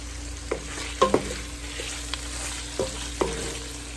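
Caramelized onion and bacon sizzle steadily in a pan for a Southern-style cabbage dish, with several sharp utensil scrapes and clinks as the mixture is stirred, close and moderately loud, no talking.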